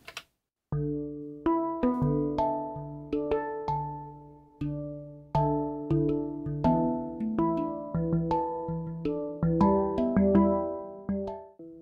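A plain synth tone from the Stochas sequencer, shaped only by EQ, plays a sparse pattern of plucked notes with quick attacks and short decays, gradually growing denser, clean and alone without any talking.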